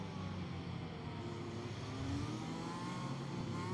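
F1 2021 race cars stream past during an online Austrian Grand Prix, a faint, steady engine drone with rising whine as the field comes through the final sector.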